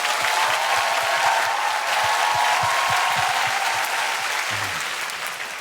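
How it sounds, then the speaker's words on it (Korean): Long, dense applause for a Korean indie band at a televised concert marking their 30th anniversary, a loud, steady wash of crowd clapping that holds for several seconds. "큰 박수 길게 부탁드립니다"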